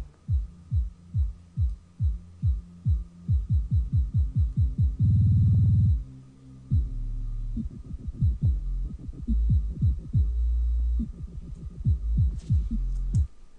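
Deep, booming bass band soloed from a dubstep track during mastering: rhythmic low thumps and wobbling sub-bass pulses, muffled and heavy with no highs.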